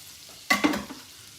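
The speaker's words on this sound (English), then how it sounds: "And my sun-dried tomatoes. I just want to cook those for a couple of minutes." Sun-dried tomatoes cooking in their oil in a pan, with a brief close stir-and-sizzle burst of about half a second amid an otherwise quiet background.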